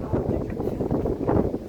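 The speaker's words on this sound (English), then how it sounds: "we're getting the gusty wind as well" Gusty wind buffets the microphone atop the Revolution evacuation tower at Blackpool Pleasure Beach, a steady loud low rumble with surging gusts throughout.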